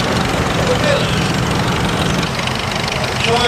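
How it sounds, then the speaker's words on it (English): An early 1931 vintage tractor with a side valve engine and vaporizer idles in an outdoor show setting, giving a steady low chugging rumble with voices talking over it. "Side valve engine there."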